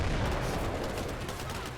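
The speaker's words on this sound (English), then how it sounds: "explosion." A grenade explodes in the Combat Mission: Black Sea war game: a rumbling, crackling blast sounds at moderate loudness and decays over a couple of seconds, with no voices.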